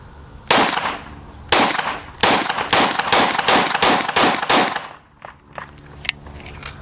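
A used handgun fires about nine rounds from a magazine, each shot loud and close in a quick, slightly uneven rhythm, followed by fainter mechanical clicks.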